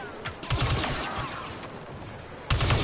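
Blaster fire in a Star Wars video game, a few sharp bursts of shots near the start and again near the end, with a quieter stretch between.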